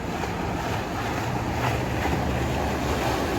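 A boat runs at full throttle off Boynton Beach, Florida: a loud, steady roar of engine and rushing water with wind buffeting the microphone, sustained without a break for the whole stretch.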